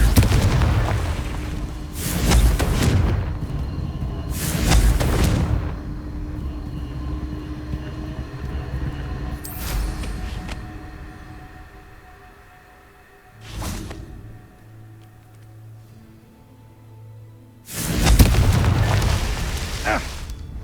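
Confringo explosion spell cast in the video game Hogwarts Legacy, heard as several loud booming blasts with rumbling tails spaced across the stretch, alongside other spell effects and a sustained low tone.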